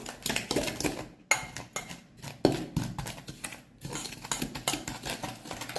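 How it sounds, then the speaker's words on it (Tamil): A spoon stirs gelatin and raspberry powder in a bowl, giving quick, rhythmic clinks and scrapes against the bowl with short pauses, close and fairly loud. "இப்போ நல்லா இதை மிக்ஸ் பண்ணி கொடுத்துக்கலாம்"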